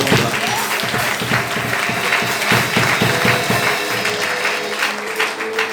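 A church congregation bursts into sustained applause, many hands clapping together in a dense, fairly close wash of claps that holds steady for several seconds before thinning out.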